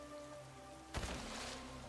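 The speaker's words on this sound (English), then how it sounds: "It's raining." Rain in the Nikke game begins abruptly, a soft wash of falling drops that switches on at once and then holds as a steady hiss, faint and alone.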